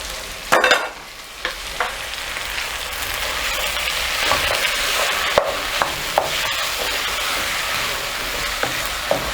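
Beef and tomatoes being stirred in a hot pan, a steady sizzle running throughout with scattered utensil scrapes and clacks, close and fairly loud, no voices.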